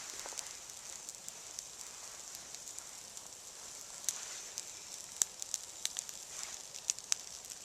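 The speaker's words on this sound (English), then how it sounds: "the fire's going so well that we can actually put relatively wet kindling on it" A campfire with relatively wet kindling added burns steadily outdoors on a rainy day, giving a constant hissing crackle with frequent sharp pops and snaps, close and moderately loud.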